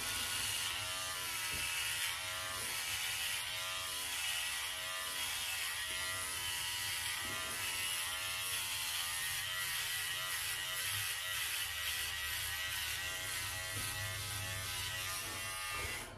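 A Philips OneBlade electric trimmer cuts a beard, trimming downward with the grain, giving a steady close buzz with a fluctuating texture as the blade moves through hair, continuous and alone for about sixteen seconds.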